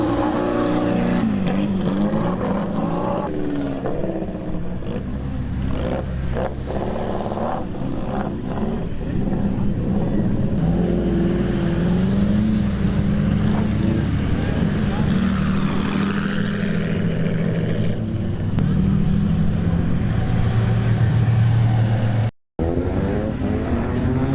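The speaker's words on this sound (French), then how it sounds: "Une 550 Spider, magnifique." Ferrari 550 Spider driving on an ice track at a winter event in St. Moritz, engine revving and droning at varying pitch amid crowd and outdoor noise, with people talking over it.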